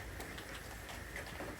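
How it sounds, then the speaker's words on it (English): Steady rain falls outside in a close, hissing wash with no breaks, low in level and heard alone without any talk. "Raining here."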